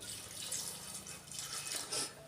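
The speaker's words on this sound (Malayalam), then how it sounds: "ഇനി ഇതിലേക്ക് നമുക്ക് പൈനാപ്പിൾ വേവാൻ ആവശ്യമായിട്ടുള്ള വെള്ളം ഒഴിച്ച് കൊടുക്കാം" Water is poured into a pressure cooker holding pineapple for a Sadya-style pineapple pachadi. The splashing is soft and fairly close, trickling in short uneven surges over a couple of seconds.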